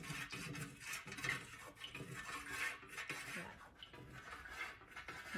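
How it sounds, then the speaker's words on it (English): Turquoise dye being stirred into melted soy candle wax: quiet, continuous scraping and light clinking of a utensil against the container, with a gentle swirling rhythm, faint and close. "And now we're going to stir. Mix that all in."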